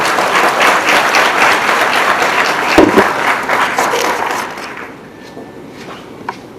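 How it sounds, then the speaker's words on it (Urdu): Audience at a formal stage event in Islamabad applauding a guest onto the stage, loud sustained clapping with a sharp knock midway, fading out to near quiet near the end. "آپ کی بھرپور تالیوں میں"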